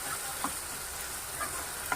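Ginger garlic paste fries and gets stirred in a pan with onions for a meal maker curry, a steady soft sizzle broken by a few light scrapes of the spoon, close and alone.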